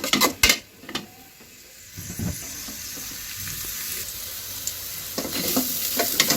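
Chopped onions and garam masala fry in a pan while duck and potato curry is being made: a few clattering knocks at first, then a continuous soft sizzle that swells toward the end, with no voices.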